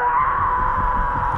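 A man screams in a long, steady, strained cry that holds loud and unbroken for the whole moment, with no other voices.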